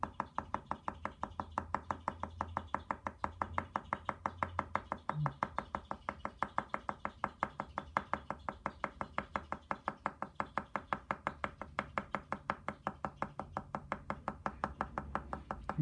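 A pen taps dots onto paper for pointillism in fast, even, continuous clicks, close and fairly soft, with a faint background hum.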